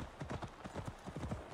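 Horse hooves clip-clop in a steady, brisk rhythm across the whole stretch in the video game Assassin's Creed Valhalla, loud and continuous with no voices.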